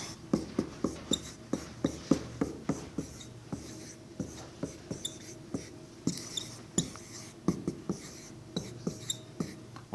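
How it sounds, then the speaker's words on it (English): Chalk or a pen taps and scratches steadily while a chemical equation is written out, giving a close, rhythmic run of short strokes with brief pauses between groups. "instead of writing the equation like that, write it like this"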